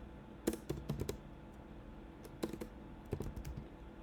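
Someone types on a computer keyboard in short irregular bursts of clicking keystrokes, close and fairly quiet, with pauses between clusters and no talk.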